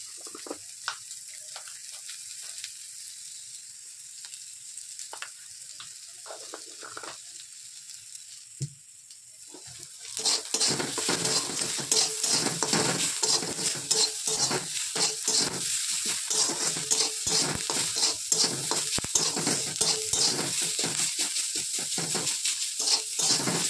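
Food frying in a pan, quiet at first and then a loud, steady close sizzle with frequent crackles and stirring clatter through the second half.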